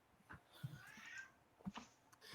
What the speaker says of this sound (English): Oh my god, I've locked my cat in my closet.